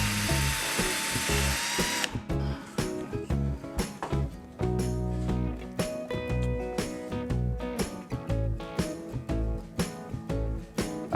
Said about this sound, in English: now I'm gonna pre-drill some pilot holes to this board so that it doesn't split when I drive the screws into